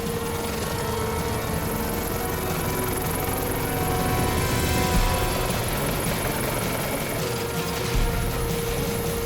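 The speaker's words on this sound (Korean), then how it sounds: "링스 헬기가 기동한 지 20여 분" A Lynx military helicopter flies on an anti-piracy naval patrol. Its steady rotor and engine drone runs loud and constant throughout with no talking.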